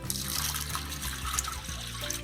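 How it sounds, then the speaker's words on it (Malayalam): Water poured into a pressure cooker holding horse gram, a steady close splashing and gurgling stream lasting throughout, with no voices. "ഇത്രയ്ക്ക് വെള്ളം ഒഴിക്കാം."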